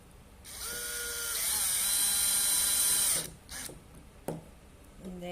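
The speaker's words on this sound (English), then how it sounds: "So I'm going to get that screw into position, and using the trigger to control the speed, just push that into my material" A cordless drill drives a screw into material, its motor whining steadily for about three seconds with the pitch rising as the trigger eases it in, then stopping, followed by a few faint clicks and handling knocks.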